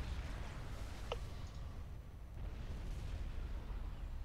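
Artillery barrage in Supreme Commander 2 during a 2 vs 2 skirmish, a constant low rumble of distant explosions with one sharp click partway through and no talking.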